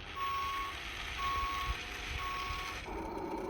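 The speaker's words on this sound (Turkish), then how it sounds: "Geri giderken bu arada arkadaşlar ses çıkarıyor. Bakın geri basıyorum." A remote-control 6x6 Volvo toy truck's reversing beeper sounds three steady electronic beeps, evenly spaced, close by over a low motor whir, then the beeping stops.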